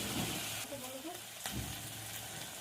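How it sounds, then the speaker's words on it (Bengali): Prawns sauté with spices in a pan, giving a steady close sizzle with intermittent stirring scrapes and one sharper clack midway; a faint voice murmurs in the background. "চিংড়ি মাছটা মশলার সঙ্গে কষিয়ে নেব"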